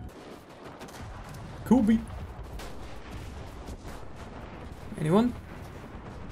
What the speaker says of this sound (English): Oh, and they're already shelling them.